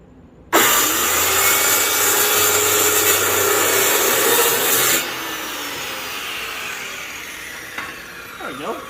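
Power saw cutting a piece for a homemade NFT hydroponic system, a steady loud rasping burst of about four and a half seconds that stops abruptly, followed by quieter room sound and faint handling.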